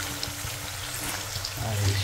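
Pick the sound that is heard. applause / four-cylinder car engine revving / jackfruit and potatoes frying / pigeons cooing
jackfruit and potatoes frying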